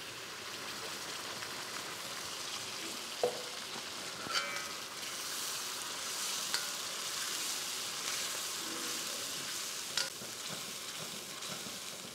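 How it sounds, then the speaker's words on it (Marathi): Green masala fries with roasted garlic in a pan, giving a soft, even sizzle and crackle, with a few faint clinks of stirring now and then. "आणि लसूण छान भाजल्यानंतर त्यामध्ये हा हिरवा मसाला,"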